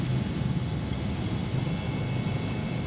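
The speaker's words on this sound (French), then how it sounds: "l'hélicoptère est prêt à décoller" A steady, droning helicopter engine roar with low rumble and constant hum, loud and continuous throughout, as it idles nearby ready for takeoff.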